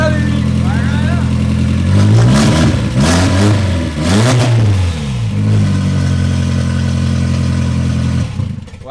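A turbocharged BMW E36 four-cylinder engine with an open downpipe revs loudly and close, rising and falling in several blips before settling back to a rough idle, with voices faintly in the background.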